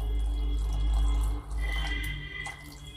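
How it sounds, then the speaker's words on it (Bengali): Water poured by hand into rice batter for chitoi pitha, made over a wood-fired clay stove: a short, close liquid trickle and splash lasting a few seconds, with a steady low background hum and no talking. "আর একটু জল দিয়ে দিলাম"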